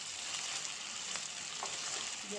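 Spice masala with green chilli paste frying in a pan, a steady broadband sizzle with faint stirring clicks, close and continuous, no voices.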